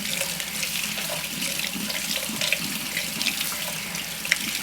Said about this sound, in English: And I'm rinsing them in cool water.